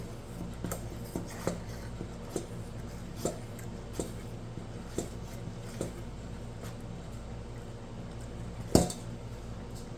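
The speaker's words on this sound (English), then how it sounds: "Says to whisk this in, that it should be" A whisk scrapes and taps in a bowl of crumbly baking mixture, quiet irregular clinks and scratches at close range with one sharper knock near the end.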